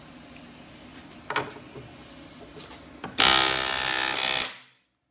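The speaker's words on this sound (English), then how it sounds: "So I cut the top off of it, and now we're going to drill again." A loud, steady mechanical grinding whir of a drill boring out a metal pin in a 1978 Ford Mustang control arm starts after a few faint knocks, runs for over a second, then winds down.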